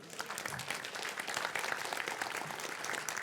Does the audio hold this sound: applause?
yes